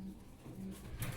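Pigeons kept for sale at a wholesale pigeon market give a brief run of low, soft coos, close by and moderately loud over a faint background.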